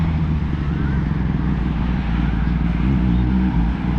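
A Kawasaki ZX-10R superbike passes close by, its engine a steady, loud droning growl that holds throughout with little change in level.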